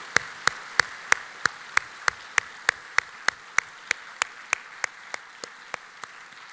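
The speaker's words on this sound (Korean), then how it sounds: "크게 박수하겠습니다" A church congregation at a Friday prayer meeting applauds missionaries with steady, evenly spaced rhythmic claps, about three per second, in unison across a large room with a little reverb, gradually fading toward the end.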